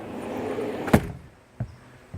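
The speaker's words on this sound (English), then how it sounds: "Okay, so we're going outside now, and through the door is a sliding door." A sliding door on a house opening to the outside, a sharp knock as it releases followed by two softer thuds as it rolls and stops, with a faint background hum.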